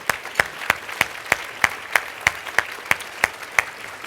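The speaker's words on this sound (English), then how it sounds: "Please give them a round of applause." Audience members at a speech clap in a steady, evenly spaced rhythm, each sharp clap standing out distinctly, about three per second, with no talk over it.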